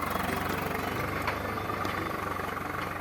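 A tractor engine chugs steadily in a field during ploughing, a constant mid-level throb with light vibration and no voices.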